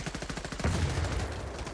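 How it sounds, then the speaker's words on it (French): A grenade goes off in the mobile shooter The Division Resurgence, a booming blast landing amid rapid rattling gunfire, loud and dense throughout the short burst. "on envoie une bonne grenade."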